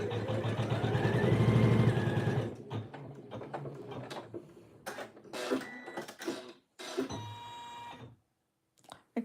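A sewing machine stitches a quilt piece in a short, loud burst of rapid mechanical chatter, then falls silent apart from scattered clicks, taps and handling noises as fabric and presser foot are adjusted.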